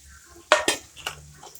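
A spoon stirs crumbled bajra bhakri into reddened fried onion in a pan, giving two sharp scraping strokes followed by softer clinks and faint sizzling, close by with no talk.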